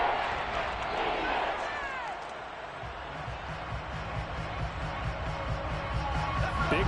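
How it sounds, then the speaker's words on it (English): A football stadium crowd at a Patriots at Saints game roars as a broad, sustained wash of noise under a commentator's voice, swelling slightly toward the end. "this crowd's going to get even louder"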